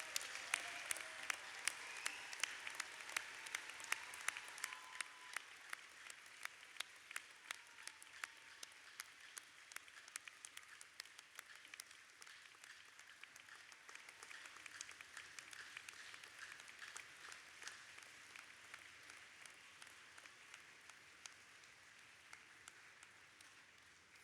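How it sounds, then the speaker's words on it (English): A large university graduation audience claps steadily for about twenty-four seconds, heard from a distance and fairly faint, slowly thinning out toward the end. "giving them a big round of applause"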